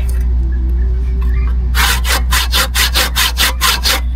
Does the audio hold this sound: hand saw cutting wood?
yes